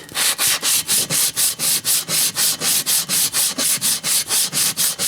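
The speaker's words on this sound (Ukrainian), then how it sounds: "І оці посадкові місця варто теж обробити наждачкою" Sandpaper rubbed by hand over the blade mounting seats of an ice auger, a steady back-and-forth rasp of about four strokes per second, close, loud and alone without any talk.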